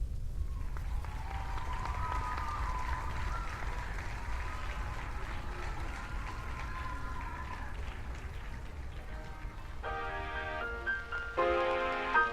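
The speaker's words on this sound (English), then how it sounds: "And then, as one, they began to cheer." A crowd breaks into cheering and applause as a story sound effect, a continuous roar of clapping and voices with a few sharp bright tones near the end.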